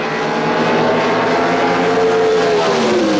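Ford Mustang II and Chevrolet Monza pro stock cars roaring down the strip at a 1977 NHRA drag race, a loud continuous engine howl whose pitch climbs and then slides as the cars pass.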